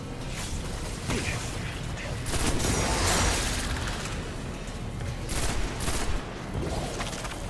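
Gunfire rattles from a weapon in the video game Destiny, with bursts of rapid shots and booms layered over busy mechanical in-game noise, loud and continuous across the stretch.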